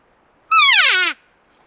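A two-tone elk call with a buzz, made by a hunter on a call to imitate an elk, sounds once as a loud, rising-then-falling harmonic squeal lasting about half a second in otherwise quiet surroundings.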